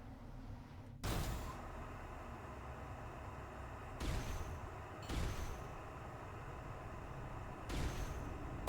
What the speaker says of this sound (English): Ah, flashbang.